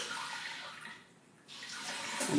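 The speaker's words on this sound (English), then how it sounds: "as I twist the knob, the water starts spraying" Water sprays steadily from a Samodra Classic 8.0 button bidet as its silver knob is twisted, a broad hissing rush that dips briefly and then surges back stronger, with no voices.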